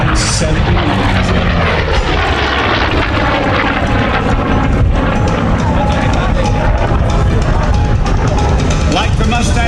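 A Corsair warplane flies at the 2019 MCAS Beaufort Air Show, its loud, continuous engine roar filling the whole stretch while an announcer talks over it.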